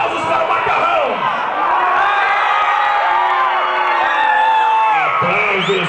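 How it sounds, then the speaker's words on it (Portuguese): A crowd at a live show cheers, whoops and shouts loudly and without a break, a dense, close roar of many voices, with a few bangs and claps mixed in. "Aplausos para o Macarrão."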